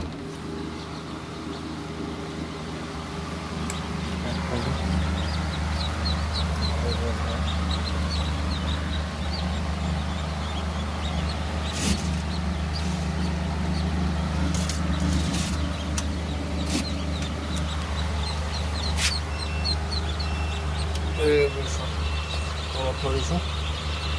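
Freshly hatched ducklings from an incubator peep in rapid, high chirps throughout, under a steady low mechanical hum with voices nearby.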